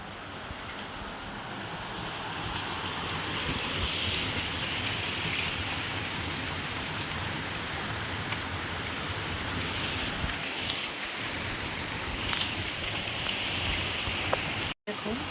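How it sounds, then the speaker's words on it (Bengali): Heavy rain pours down in a steady, dense roar that goes on without a break, with a faint voice now and then beneath it. "মুসলধার বৃষ্টি চলে আসছে"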